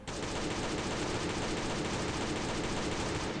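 Loud, rapid, continuous gunfire in the video game Last Day on Earth: Survival, sustained automatic shots with no pauses and no talking.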